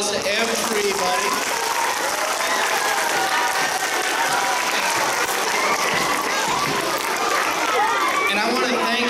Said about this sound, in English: I want to give a big round of applause to everybody.